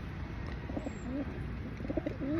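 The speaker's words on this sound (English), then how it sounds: "all these birds just come flooding around me, look" Pigeons coo repeatedly close by as a flock gathers around, soft throaty calls rising and falling over a steady outdoor hum.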